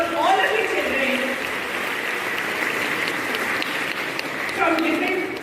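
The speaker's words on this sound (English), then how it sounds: "a big round of applause for all of you children" A large audience of delegates and children at a conference in West Bengal applauds in a steady, dense wash of clapping for the whole stretch, with voices rising over it near the start and end.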